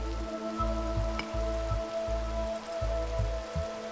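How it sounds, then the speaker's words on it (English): Rain in Minecraft falls as a steady, even patter, with a low rhythmic pulsing hum and faint tones running underneath, and no voices. "Oh, the rain might hinder our plans here a little bit."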